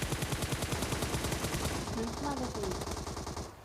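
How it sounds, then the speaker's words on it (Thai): Rapid automatic gunfire in a shooting video game, a loud rattling burst that continues steadily before easing into quieter shots, with faint background effects. "มันขึ้นยิงข้างหลังวะ"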